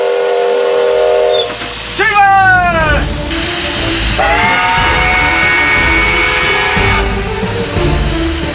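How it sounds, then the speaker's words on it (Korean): A steam locomotive sets off amid heavy hissing steam and two loud, sweeping steam whistle blasts, with rumbling train noise beneath and a short shout in Korean. "요란한 소리를 내며 칙칙폭폭 기차가 달립니다."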